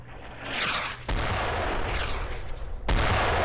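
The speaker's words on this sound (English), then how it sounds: "I'm guessing the mortar just blew up in our path." Mortar shells exploding in the World War II game Brothers In Arms: Road to Hill 30, three loud close blasts in a row, each a sudden broadband crack trailing into rumble.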